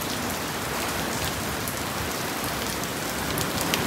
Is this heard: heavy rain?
yes